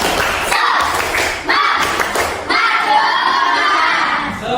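A classroom of children claps out a morning cheer rhythm in bursts of loud, patterned hand clapping and thumping, mixed with excited shouting from the group.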